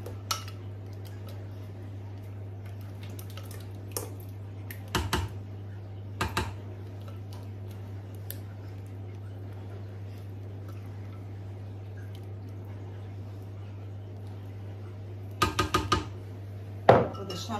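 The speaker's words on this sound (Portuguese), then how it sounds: "Vamos misturar mais um bocadinho, só para ligar aqui devagarinho." Red velvet cake batter with buttermilk, vinegar and vanilla is stirred slowly in a bowl, giving faint, scattered clinks and scrapes at irregular intervals over a low, steady hum.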